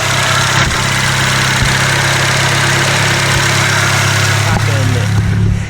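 Ford TX5 Turbo engine idling, a steady close rumbling drone with a few faint knocks, continuous throughout without pause.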